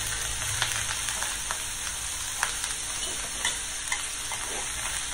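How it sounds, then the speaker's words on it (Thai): Napa cabbage and pork stir-fry in a pan with a steady, soft sizzle and light scraping and tapping of the spatula, fairly quiet and with no talking. "ผัดจนกว่าผักกาดขาวจะสลดเนาะพี่น้อง"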